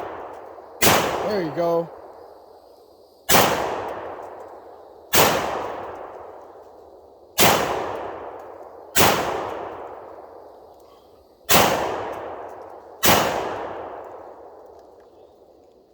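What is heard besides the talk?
Panzer Arms SCR XII shotgun firing through a magazine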